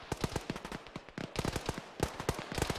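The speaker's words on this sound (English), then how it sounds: "that's AK fire to the southeast" AK rifle fire in the military video game Arma, rapid bursts of sharp cracking shots in quick rhythmic volleys with brief gaps, moderately distant, with no talking.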